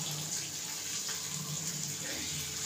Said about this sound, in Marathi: पाणी थोडंसं गरम केलंय, मी ताटामध्ये ओतते.